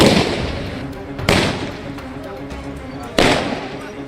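Firecrackers burst on a city street in Jorhat during a celebration, two sharp loud bangs about two seconds apart, each trailing off into a lingering rumble over a murmuring background.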